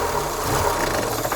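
A Mazda Miata engine runs close with a rough, rattly mid-range drone, holding fairly steady across a short stretch rather than climbing sharply.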